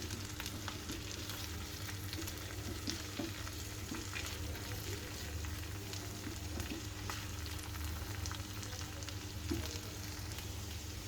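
Garlic and cumin spice paste fries in a pan for achari chicken, a soft, steady sizzle that runs throughout with faint scraping ticks, quiet and with no voices.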